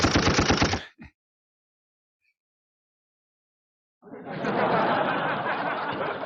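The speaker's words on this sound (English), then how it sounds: "Let's get some more gunshots." Two bursts of sharp, rapid gunfire, a short volley first, then silence for a few seconds, followed by a longer dense barrage of shots.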